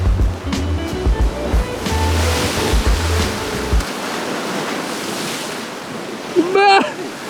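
Ocean surf crashing and rushing at the shore where people struggle against the waves, a loud broadband roar with a heavy pounding first half, then washing water and a brief distant voice near the end.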